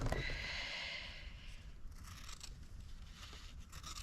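Scissors snipping the four corners of a fabric square during sewing, a soft scraping cut up close, loudest at the start and then trailing into quieter rustling.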